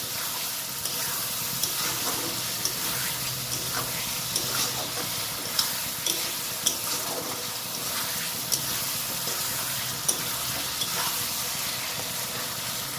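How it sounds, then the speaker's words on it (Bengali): Spices sizzle steadily in a hot pan for a winter curry, a constant close crackling hiss with occasional soft clicks of stirring, no voices. "মশলাগুলো ভাজা ভাজা হয়ে গেছে।"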